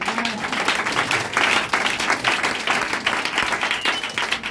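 Congregation applauding at a French-language church service, a steady wash of many hands clapping together at close range, sustained and fairly loud with faint cheering mixed in.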